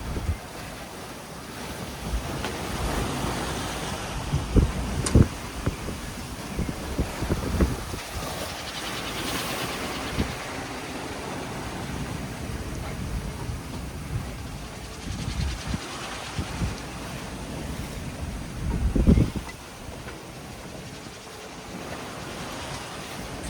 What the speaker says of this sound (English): the rough seas are continuing